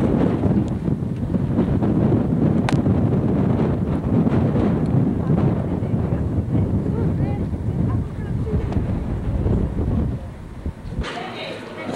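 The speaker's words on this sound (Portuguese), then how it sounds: "Agora, deste lado da montanha, realmente venta muito." Strong wind blows across a mountainside facing the Jungfrau above Lauterbrunnen, Switzerland, roaring and buffeting the microphone in a continuous, loud rush that eases briefly near the end.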